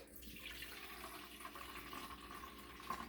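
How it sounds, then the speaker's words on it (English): Apple juice pours quietly into a measuring cup while homemade wine is being prepared, giving a faint, steady liquid trickle close by in a still kitchen. "So you're pouring out 2 cups of juice."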